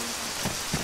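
Steady rain hisses in the Arma 3 Silent Hill mod, a continuous even patter with a couple of faint soft thumps.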